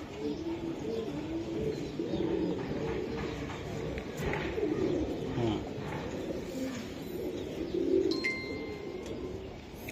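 Racing pigeons coo softly and repeatedly at close range, a low rolling murmur from several birds throughout, with a brief murmur from a person and faint background voices.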